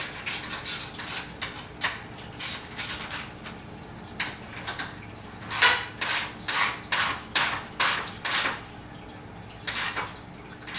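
Locking nuts being tightened on an OEM grille light bar of a 2017 Ford F-150 Raptor: a string of sharp metallic clicks and ratcheting bursts, close and fairly loud, coming in quick regular clusters with short pauses.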